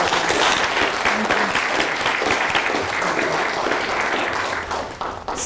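A room full of people claps steadily to welcome a speaker at a youth mental health forum, the dense, loud applause holding even throughout before tapering slightly at the very end.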